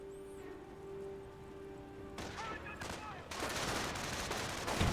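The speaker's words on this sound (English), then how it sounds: "Our position is under fire!" Rifle and machine-gun fire in the World War II strategy game Company of Heroes, with a tonal hum and faint voice early, then dense bursts of shots growing louder and more continuous toward the end.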